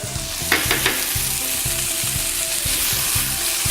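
Paprika sizzles and fries in a hot pan as part of a cod peperonata, a steady, loud crackle with scraping stirring strokes near the start.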